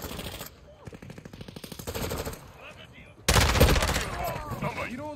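Gunfire set to two-round burst in Call of Duty: Modern Warfare II, rapid rhythmic shots cracking in quick clusters, then a loud burst of heavier firing near the end under light game noise.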